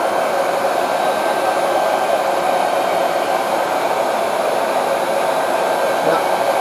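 A Nostalgia Air-Pop popcorn maker blows hot air in a steady, loud, unbroken whoosh, like a hair dryer, holding constant throughout with no talking.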